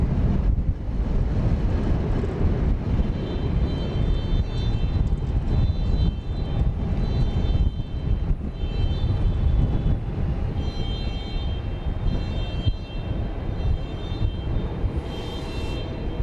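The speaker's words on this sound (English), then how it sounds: "a MAX 8 coming in here on the east side of the airport." A Boeing 737 MAX 8 airliner arriving from Austin approaches Dallas Love Field on a misty night with a steady, loud roar and low rumble throughout, plus faint high whine tones and some wind buffeting.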